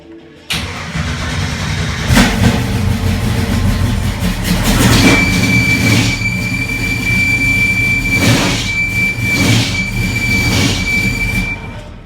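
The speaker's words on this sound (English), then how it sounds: "God, the belt is making a horrible noise." A car engine runs steadily after a fuel pressure repair, with a sustained high-pitched squeal from a slipping belt near the alternator, loud and continuous, with a few louder surges.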